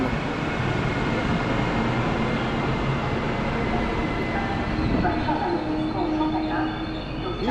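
The Berlin-Warszawa Express from Berlin, hauled by EU44 001 Husarz, rumbles past in a loud, steady roar of rolling wheels and a humming electric locomotive, with a few squealing tones late on.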